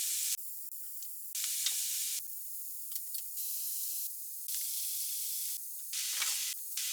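Food sizzling in a frying pan, loud hissing frying noise that rises and falls in surges, with brief quieter gaps between bursts, close up and without talking.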